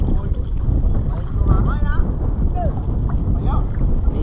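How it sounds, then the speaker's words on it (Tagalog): Wind gusting at sea beside a small fishing boat, a heavy low buffeting roar across the microphone with water wash, while people talk faintly in the background. "Medyo mahangin ngayon."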